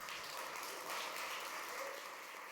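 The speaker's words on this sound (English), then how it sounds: "A big round of applause to everybody." Applause from the audience at the inaugural CloudSec security conference, a steady, even wash of many hands clapping that sounds fairly distant and quiet throughout, with no talking over it.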